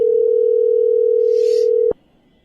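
A telephone dial tone hums steadily and loudly while a call is placed back, then cuts off abruptly near the end.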